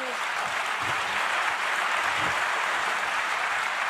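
A crowd applauds steadily, a dense even clatter of many hands clapping, with a few faint voices underneath.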